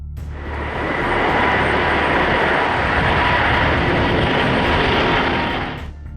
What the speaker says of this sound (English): The A350, known for its powerful engines and aerodynamic design, showcased its efficiency in this rapid takeoff.